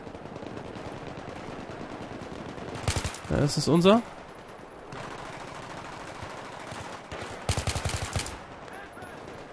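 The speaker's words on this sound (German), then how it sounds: "Da waren schon die ersten Schüsse wieder." Bursts of rapid gunfire ring out in short volleys amid Battlefield 3 multiplayer game sounds, with someone speaking briefly between them.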